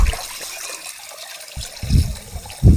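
Water trickling and splashing while fish is washed at home, starting with a pour, going quiet, then returning in louder bursts of splashing.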